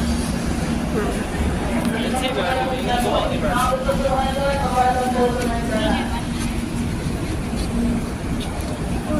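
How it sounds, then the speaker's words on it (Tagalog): A Manila MRT metro train rumbles steadily nearby with a tonal whine rising and falling mid-clip, amid background chatter in a station. "Sakay na tayo ng train."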